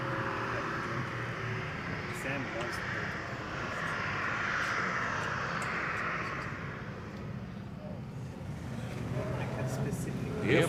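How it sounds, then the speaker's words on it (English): Fuel-injected Extra 300 aerobatic airplane at an air show, a steady droning engine at middle distance that swells and fades slightly, with a voice talking over it. "This fuel-injected Extra 300 comes in single seat and dual seat variant."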